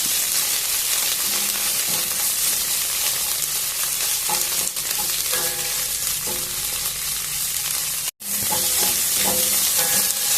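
Spinach frying in a pan with garam masala and coriander powder, giving a continuous moderate sizzle broken by repeated stirring clinks and scrapes, no voices.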